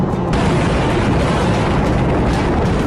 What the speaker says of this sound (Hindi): लेबनान की राजधानी बेरूत में इजराइल लगातार बमबारी कर रहा है।